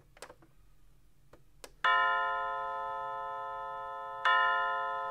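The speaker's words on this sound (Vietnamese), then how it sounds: "nút này để các bạn test chuông này" Two bright electronic chime tones ring out from a Rhythm 4FN404SR calendar clock during a chime test, the second restriking before the first fades, each with a long sustained decay after a few soft clicks.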